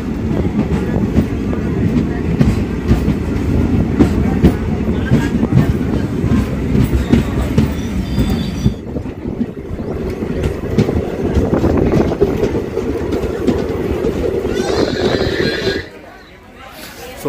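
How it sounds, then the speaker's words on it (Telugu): A DEMU train pulls out of Jangalapalli railway station on the Hindupur–Guntakal line, loud rumbling and clattering wheels building steadily, then the noise drops away sharply near the end. "జంగలపల్లి రైల్వే స్టేషన్ డిపార్చర్ చూడండి ఫ్రెండ్స్"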